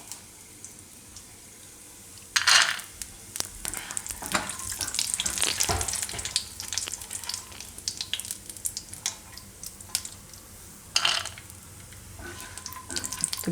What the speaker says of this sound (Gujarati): હવે આ જ ઘીમાં આપણે કાજુને શેકી લેવું.